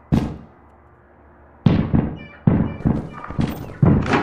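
Shotgun blasts in a video game, one sharp loud shot followed after a pause by a rapid run of four or five booming shots with short decays, no talking over them.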